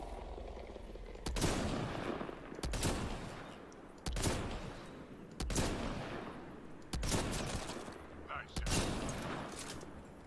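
A turret firing during an ambush in Mass Effect: Andromeda, long loud bursts of rapid gunfire repeating every second or so, with shorter gaps between volleys.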